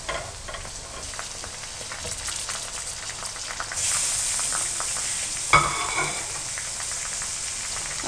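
Chicken and onions fry in a pan, a soft, continuous sizzle that swells louder partway through as fresh ingredients hit the oil, with a brief sharp clatter near the end, close and unaccompanied by speech.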